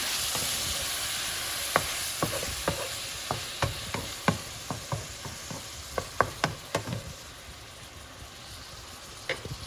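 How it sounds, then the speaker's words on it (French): Food searing in a little oil in a pan, heard as a constant close sizzle broken by sharp clacks of a utensil as it is stirred and turned, with no voices. "je vais les saisir dans l'huile. Un peu d'huile, hein, faut pas exagérer."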